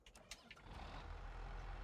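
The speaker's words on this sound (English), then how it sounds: "Drive the truck over." Truck in the video game Farming Simulator 25, driving and then reversing, with a few short beeps at the start giving way to a low, rumbling engine drone that builds and holds steady.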